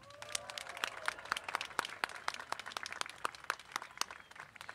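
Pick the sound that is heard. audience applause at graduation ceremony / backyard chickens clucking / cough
audience applause at graduation ceremony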